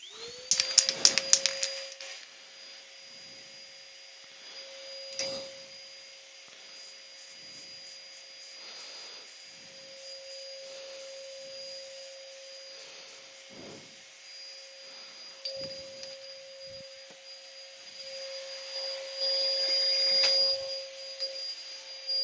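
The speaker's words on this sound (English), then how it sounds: "Put the extraction on." A workshop dust extraction system runs in a steady, close whine and roar with a constant pitched hum throughout, while faint scraping and handling noises come and go over it.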